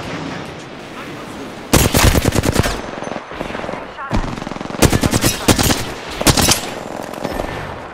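Automatic gunfire in the video game Apex Legends, loud rapid bursts crackling in several separate volleys over a murmuring game background, with short pauses between the strings of shots.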